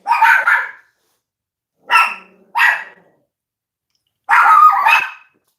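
Several sharp dog barks ring out close and loud in three separated bursts, the last one longer and doubled, with silence between them.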